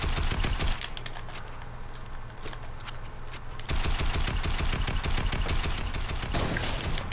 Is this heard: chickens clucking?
no